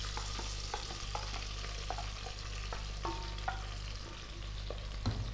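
Ground masala is stirred into frying mirchi curry, a close, quiet sizzle under scraping spoon strokes and soft knocks against the pan, with a steady hum behind.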